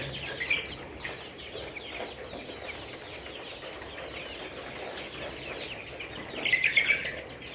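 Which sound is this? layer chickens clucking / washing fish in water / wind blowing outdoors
layer chickens clucking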